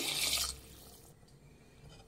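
Water pours into a pot holding one glass of washed rice for soya biryani, a bright splashing rush for about half a second that quickly stops, leaving a quiet kitchen.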